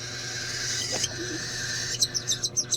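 A pet bird calls indoors in a short burst of quick, high chirps near the end, over a steady background hum after a brief quiet stretch.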